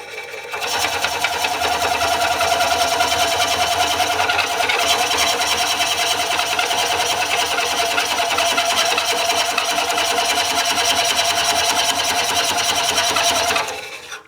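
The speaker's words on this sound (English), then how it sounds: "If the blade stalls the motor out like that, just pull the cutter out a little bit and then start the cut again." A Woodcut Bowlsaver Max 4 bowl coring cutter driven by a lathe motor cuts into wood, a loud, steady whirring grind that holds evenly for about thirteen seconds before stopping abruptly.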